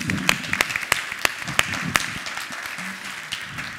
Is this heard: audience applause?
yes